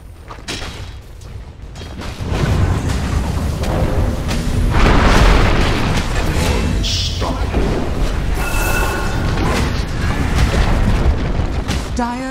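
Dull booms and bursts ring out in the Dota 2 video game as a tower comes under attack, with layered mechanical clanks and effects building into a dense, loud rumble.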